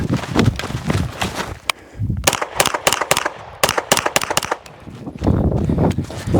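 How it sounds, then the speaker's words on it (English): Rapid gunshots from a Kuna pistol-caliber carbine during a cold-start shooting drill, sharp and close, fired in quick strings with short pauses between bursts. "I can definitely pull the trigger on this Kuna a little faster."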